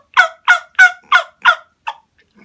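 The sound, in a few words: turkey yelp imitated with a diaphragm turkey call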